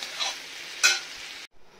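Potatoes fry in a home kitchen pan with a close sizzle, stirred twice in quick scraping bursts, before the sound cuts to a quieter tail.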